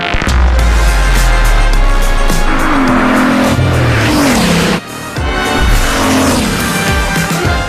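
A Bugatti race car tears around Le Mans in the Gran Turismo racing game, its loud engine rising and falling through gear changes with tire squeal and skidding, one brief cut midway, no talking.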